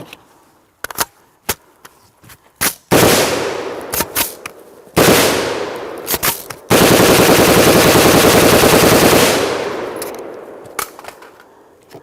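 A POF-USA rifle fires a string of loud, close bursts: several sharp single shots first, then longer rapid-fire runs with brief gaps, ending with a few scattered shots and no talking.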